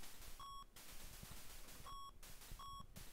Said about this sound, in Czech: To je muzika, ten pípák, hrozný.